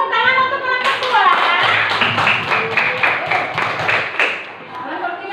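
A classroom of primary school students claps in a rhythmic, evenly spaced beat for a group that has just presented a science lesson on light, with a teacher's voice and children's voices over the claps.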